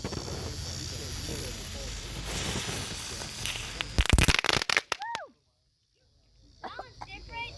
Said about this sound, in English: Doggy Doo Doo. That is the name of this firework.